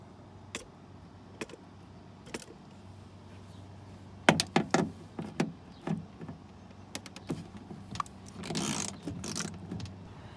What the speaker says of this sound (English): now I just need to unbolt the door panel from the door itself